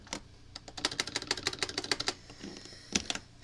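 Rapid clacking keystrokes on a keyboard, a quick run of evenly spaced taps followed by a pause and a final couple of hits, close and clear over a low background hum.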